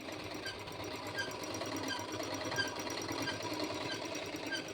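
A sewing machine runs steadily without thread during a tailoring practice lesson, its rapid even needle rattle continuous and close throughout with no voices.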